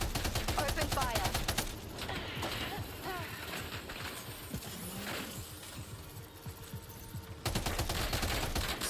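Rapid automatic gunfire bursts in a multiplayer shooter game, loud at the start and end with denser crackling shots and scattered fire between, a voice heard briefly among the shooting.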